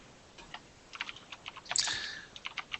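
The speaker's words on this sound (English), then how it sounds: "Walrus, get off the keyboard, cat" A cat walks across a computer keyboard, setting off a scatter of irregular key clacks that gather into a brief denser cluster midway. The clicks are close and fairly quiet, with no talking.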